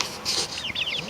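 Growing baby chicks cheep in quick, high, repeated chirps, close and fairly loud, in a short noisy burst with no talking.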